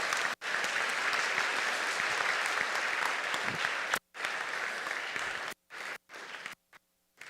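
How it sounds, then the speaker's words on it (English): A chapel audience applauds in a full, steady round of clapping that cuts out briefly, resumes, then breaks into scattered final bursts before falling silent. "give them a round of applause"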